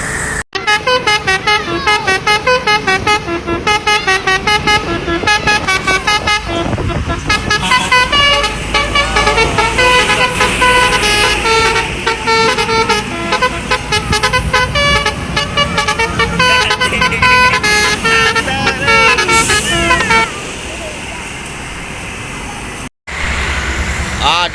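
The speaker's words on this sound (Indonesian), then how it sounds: "kita akan menunggu bus-bus Sumbar yang akan melintas pagi hari ini" Buses from West Sumatra pass along a road toward Palembang, horns honking repeatedly in loud musical blasts over the rumble of engines, with a brief pause near the end.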